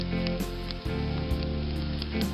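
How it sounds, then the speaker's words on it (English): Steady sizzling of gyoza frying in a hot pan, a dense crackling hiss that holds throughout with a low hum underneath and no voices. "Now, you can hear the sizzle."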